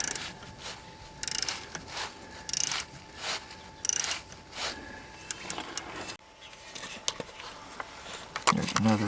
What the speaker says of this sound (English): I continue to use my 3/8 ratchet in the front to remove the pulley